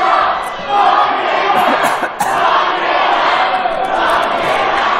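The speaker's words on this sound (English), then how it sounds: "Look at this crowd." A wrestling event crowd at RWA March to Victory 2019 roars and cheers continuously, a dense wall of many voices yelling loudly and close, with a brief dip before the noise swells again.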